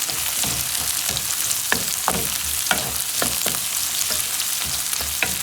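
Carrots stir-fry in a hot pan with a constant loud sizzle, broken by repeated sharp clacks and scrapes of a utensil tossing them, close up with no talking.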